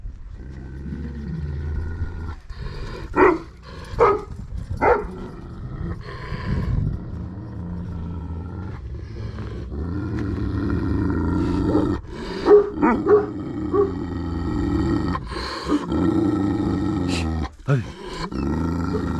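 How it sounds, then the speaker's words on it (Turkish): A tiger roars and growls in repeated bursts close by, while dogs bark and people talk and laugh throughout. "Kaplan."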